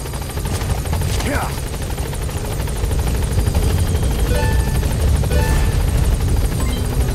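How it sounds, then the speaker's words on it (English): Steady helicopter rotor drone from the video game Metal Gear Solid V: The Phantom Pain, loud and continuous throughout, with a brief whining tone rising and falling early on and faint electronic tones later. "Support helicopter has arrived."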